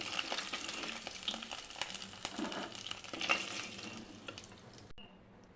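Potato pieces fry lightly in a pan with a soft, fairly quiet sizzle broken by small stirring scrapes and pops. The sound thins out and cuts off near the end.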